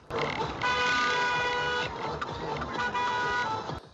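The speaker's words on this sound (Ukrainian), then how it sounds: "На цей маневр із лівого ряду хтось невдоволено сигналить." A long car horn from a vehicle in the left lane blares through steady traffic noise, holding for a few seconds with a brief dip before sounding again.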